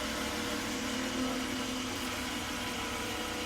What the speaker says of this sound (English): Grab your throttle. Let this thing idle down.